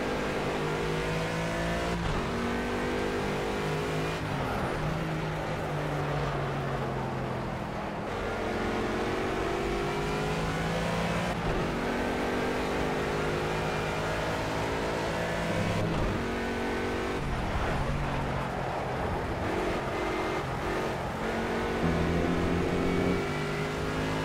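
Race car engine in Project CARS screaming through repeated gear changes and rev swells, with braking for a chicane and acceleration out of it, loud and continuous throughout without any talking.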